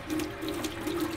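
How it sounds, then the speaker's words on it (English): A tap indoors at an off-grid cabin runs steadily, a close, loud gush of water pouring into a sink with a constant splashing texture throughout and no voices. "Let's go check the taps inside. It works."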